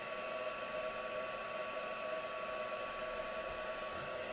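A hair dryer runs steadily and continuously at close range, drying paint on a craft project, with a constant whirring hum and airy rush and no talking.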